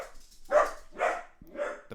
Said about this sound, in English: The puppy is going crazy again.